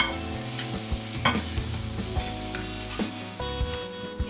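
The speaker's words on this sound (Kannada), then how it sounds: "ನಾನು ಇಲ್ಲಿ ಜಿಂಜೆ ಮತ್ತು ಗಾರ್ಲಿಕ್ ಪೇಸ್ಟ್ ಹಾಕೊಂಡು ಕೂಡ ಫ್ರೈ ಮಾಡ್ಕೊಂಡಿದ್ದೀನಿ" Tomato, ginger and garlic paste fries in a pan for chana masala, a steady close sizzle broken by repeated stirring scrapes and clinks of a spoon, with no voices.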